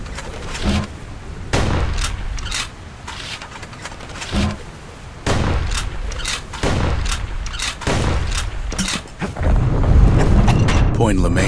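Gunfire from the Kid's gun in the action video game Bastion: a series of loud, sharp blasts in an uneven rhythm over a steady game soundscape, with a voice speaking at times.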